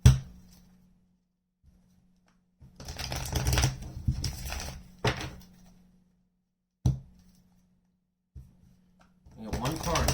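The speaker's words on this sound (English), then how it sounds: "One more shuffle." Tarot cards being shuffled for a reading, giving two bursts of riffling and rustling, then a few short taps and thumps as the deck is squared, with a low hum underneath and quiet gaps between.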